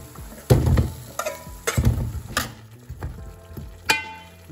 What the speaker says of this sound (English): The tomato is right here in the oil.